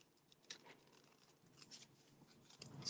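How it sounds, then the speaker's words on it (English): Scissors fussy cutting small paper pieces for a Halloween craft, a few quiet snips and rustles, close but faint, with no talking. "let's just fussy cut them out"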